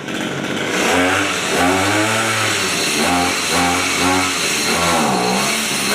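A used Japanese Robin 25 brush cutter's small two-stroke engine runs loud and close, its pitch rising and falling through several throttle blips over steady idle.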